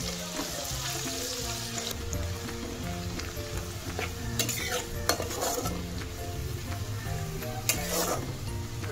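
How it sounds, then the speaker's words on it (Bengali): Two large coarsely chopped onions fry in hot oil for a prawn malai curry, a steady close sizzle broken by occasional sharp clinks of a utensil stirring the pan. "পেঁয়াজটা লাল লাল করে আমি ভেজে নেব"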